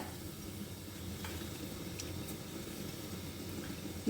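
Panch phoron and bay leaf sizzling in oil make a faint, steady hiss with soft low bubbling and a few light ticks, close and unbroken, with no talking.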